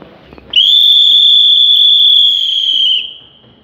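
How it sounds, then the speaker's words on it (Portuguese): A single long, shrill referee whistle blast signals the start of an outdoor airsoft game, sounding close and loud for about two and a half seconds after brief quiet. "Posso apitar então?"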